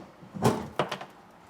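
A hinged spare tire cover in a Mercedes trunk swings open with a soft thump, followed by a couple of lighter knocks and rattles as it settles, close and brief.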